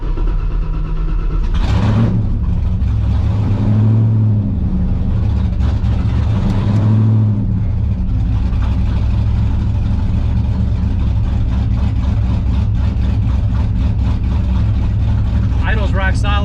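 A car tuned with a Holley Terminator X system idles steadily and blips its throttle into a few loud, close revs before settling back to a rumbling idle, with people talking over it.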